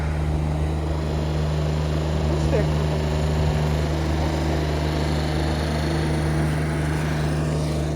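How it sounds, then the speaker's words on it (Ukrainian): A low, steady engine drone hums throughout as a tractor spreads grit on a street in Kharkiv, with a constant mechanical tone and no change in loudness. "Трактор їде посипає, до речі, тут."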